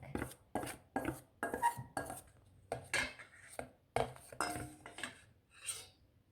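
A cloud slime mixture is stirred in a bowl with rhythmic clinking and scraping strokes of a utensil against the bowl, about a dozen quick passes, close and clear with no talking.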